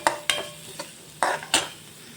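Vegetables fry in a pan on the way to golden brown, with a soft background sizzle under a handful of sharp spoon-on-pan scrapes and taps at uneven intervals.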